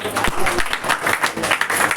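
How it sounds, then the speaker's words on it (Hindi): Audience applause for soldiers at a school Independence Day cultural programme, a dense, steady wash of many hands clapping throughout with some crowd noise mixed in. "तो इनके लिए एक जोरदार ताली हो जानी चाहिए आप सभी के द्वारा।"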